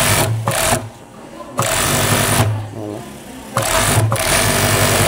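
An industrial sewing machine with four needles stitches top garter in a garment sewing shop, running in three loud whirring bursts separated by brief pauses, with a person talking alongside.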